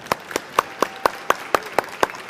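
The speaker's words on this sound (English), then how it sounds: "Little round of applause." At the World Brewers Cup competition, roughly ten sharp hand claps ring out in an even, rapid rhythm, close and distinct, with the room quiet between them.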